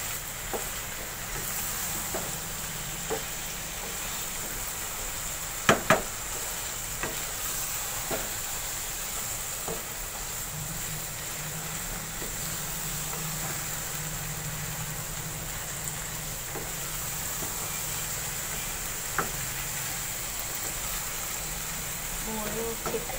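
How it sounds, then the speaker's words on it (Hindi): Radish and spinach sauté in a pan under a constant soft sizzle, broken by occasional sharp taps and scrapes of a spoon stirring. "भूनिए अच्छी तरह से, बहुत अच्छा आपने इसको भूनना है।"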